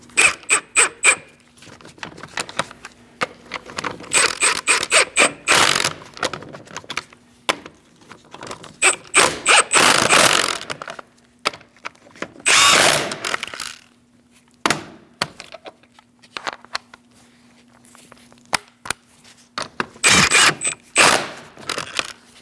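Wheel nuts on a 2000-2006 Mini Cooper being tightened by hand in a crisscross pattern: scattered bursts of ratcheting and metallic clicks, close by, separated by quiet pauses and a faint steady hum.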